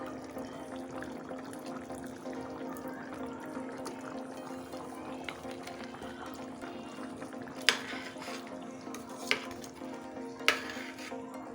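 Plantain pottage with added palm oil is stirred in a cooking pot, giving a faint, continuous wet churning with a few sharp clinks of a utensil against the pot near the end.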